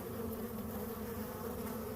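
Bees being moved from a hive into a box make a dense, continuous close buzzing hum, steady and loud throughout with no pauses.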